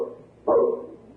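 A single dog bark bursts out loud and close in an old-time radio drama, a short yip-like woof following a murmur of room noise, with another sound starting at the very end.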